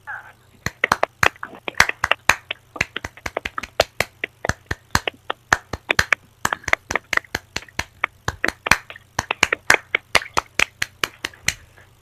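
A group of Pramuka scouts claps out a fast rhythmic pattern of sharp, distinct hand claps in quick bursts and pauses, close and crisp, with a brief voice at the very start.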